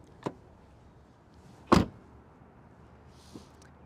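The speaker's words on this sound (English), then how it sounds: "we don't actually need to hear the door close noise because the Ghibli has soft close for us" A front door of a Maserati Ghibli Trofeo shuts with one solid thump at close range, framed by a couple of fainter clicks before and after in a quiet setting.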